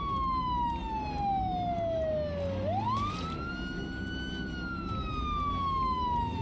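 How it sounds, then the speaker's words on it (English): A Project Zomboid siren wails loudly and continuously, sweeping down, then up, then slowly down again in a long electronic tone, with faint clicks scattered over it. "I know the siren really sucks. Makes a lot of noise."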